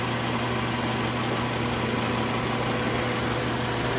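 A 2009 Matrix car engine idles steadily during an oil change, a constant close mechanical hum and vibration with no variation or talk over it.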